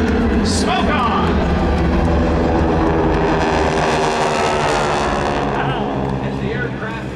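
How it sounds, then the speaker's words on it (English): Roar of GEICO Skytypers propeller airplanes passing overhead at an air show, loud and sustained, then fading slightly toward the end, with an announcer talking over it. "As the aircraft perform for you today"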